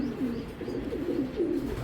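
A Belgian racing pigeon of the chocolate-coloured type coos nearby in low, soft, repeated rolling notes, close and clear with no talk over it.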